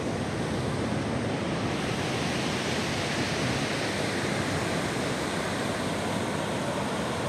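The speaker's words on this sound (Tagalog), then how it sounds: "Grabe, lakas ng alon." Strong sea waves surge after a storm along the shore at Bauang, La Union, a constant roaring wash of surf with wind buffeting the microphone, steady and loud throughout with no voices.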